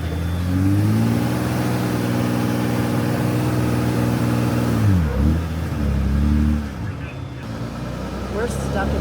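A vehicle stuck with its back tires dropped into a road rut on a Colombian highway, its engine droning and revving loudly at a steady pitch, dipping briefly before revving again, close up throughout.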